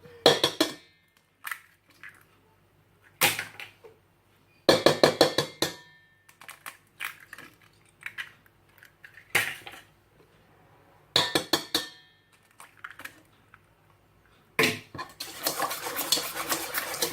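Eggs are cracked into a bowl and beaten for a Breton prune far. Sharp clinks of shell and utensil against the bowl come in separate bursts through quiet gaps, and fast whisking scrapes take over near the end.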